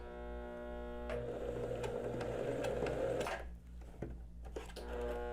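A sewing machine stitches a dart in a basic blouse, a steady mechanical whir of running stitches that pauses briefly and starts again, close and fairly quiet.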